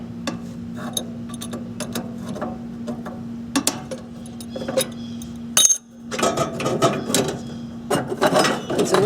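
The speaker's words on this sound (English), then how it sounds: "I'm just using an adjustable wrench here" Adjustable wrench working on a fitting of a Hayward pool heater during a pilot light repair: close metallic clicks and ratcheting taps over a steady low hum, followed by a louder burst of clattering and scraping.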